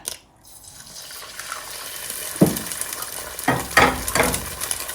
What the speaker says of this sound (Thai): เช้านี้เริ่มจากทอดไข่ คนละสองใบก่อนค่ะ